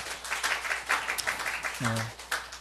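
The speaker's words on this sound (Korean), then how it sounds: "하나님께 박수 올려드려요" A church congregation claps during a Sunday sermon, a soft, brief patter of hands heard faintly from across the room, with a voice breaking in near the end.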